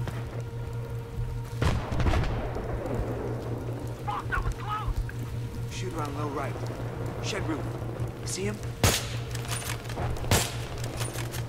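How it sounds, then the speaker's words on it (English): Gunfire in the Battlefield 3 campaign, with several sharp shots and bursts scattered among explosions and game noise while someone talks excitedly over the action. "Who the fuck is shooting?"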